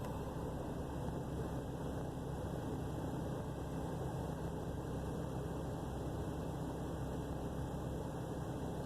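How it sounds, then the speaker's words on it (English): A truck that stalls when first started idles low, making a steady, even engine drone with a broad hiss. The sound stays constant throughout with no speech. "idling a little bit low right now."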